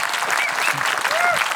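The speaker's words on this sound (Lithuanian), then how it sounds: "Galim šiek tiek Paploti" Audience clapping fills the room at an interview event honouring the first Lithuanian rider to join a factory team, a steady dense burst of applause with a few whistles on top and no speech.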